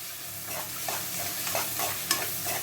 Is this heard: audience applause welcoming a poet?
no